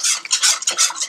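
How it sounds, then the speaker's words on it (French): Haitian rice pudding is stirred in a pot, quick scraping strokes of a spoon in a rapid uneven rhythm, close and bright, over about a second. "faut toujours brasser pour pas faire boule la main pour bien cuire"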